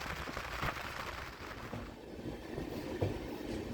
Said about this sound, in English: It's a rare scene to see a mail express train led by a diesel locomotive these days.